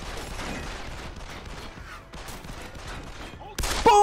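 Gunfire in the Deus Ex video game, rapid bursts of shots crackling through the mix with a louder burst near the end, game audio heard up close.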